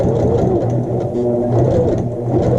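A sewing machine stitching a French seam, a loud, close, steady mechanical whir with a fast rhythmic stitching pulse that runs unbroken.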